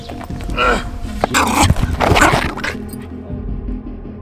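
A Kangal dog makes a few rough barks and scuffling noises close by, with some commotion in the background.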